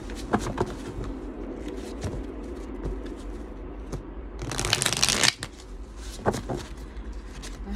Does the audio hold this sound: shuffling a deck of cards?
yes